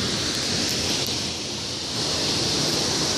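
A waterfall near Petrohué, Chile, pours with a steady, dense roar of rushing water, loud and close, with no other sound over it.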